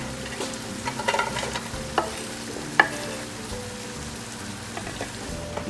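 Onions fry in a pot for chili, a soft steady sizzle under intermittent scraping and stirring clicks from a utensil, fairly quiet and close with no voices.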